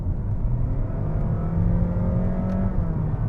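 A 2023 Honda HR-V hybrid crossover engine roars steadily under kickdown acceleration, a loud sustained drone with a rising whine, close by and without voices.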